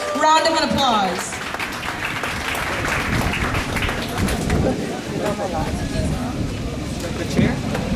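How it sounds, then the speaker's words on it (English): Audience at a Jagannath festival in Scarborough applauds the youngsters of Murari Bhakti School, loud continuous clapping in a reverberant hall, with voices and crowd chatter mixed in. "Please give them a thunderous round of applause."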